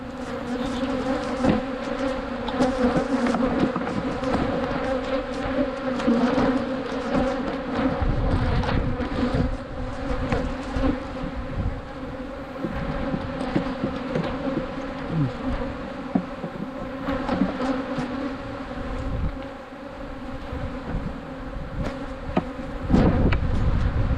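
Honeybees buzz steadily around an open hive being inspected, a dense, continuous droning hum close by with rising and falling swells and occasional handling knocks.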